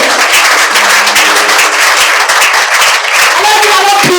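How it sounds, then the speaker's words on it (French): A church congregation bursts into sustained applause and clapping during a collective fasting and prayer service, loud and dense throughout, with some voices mixed in. "Acclamons pour le bureau."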